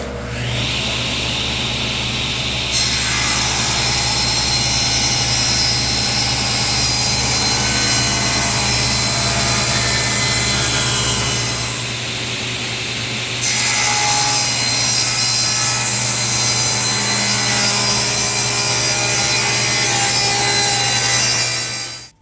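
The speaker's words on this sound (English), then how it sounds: "now I'll just sand them a little bit so I'm not going to be here all day" Small walnut and oak pieces being sanded for a box: a loud, continuous abrasive whirring grind that dips briefly near the middle, then resumes steadily with no voices.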